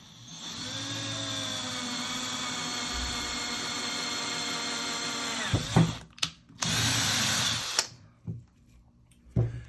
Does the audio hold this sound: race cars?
no